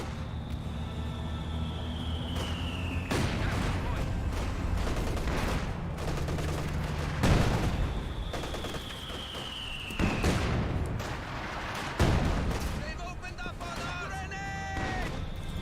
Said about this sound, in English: MG34 trying to get some good suppression there